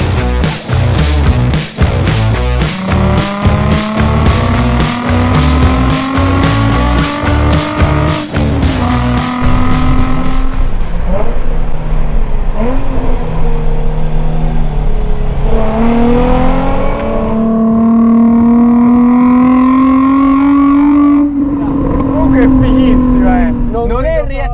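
A Nissan 350Z driven on rough, potholed roads: a loud, close engine repeatedly revving and climbing through gears, pitch rising and falling, with wind and cabin rumble.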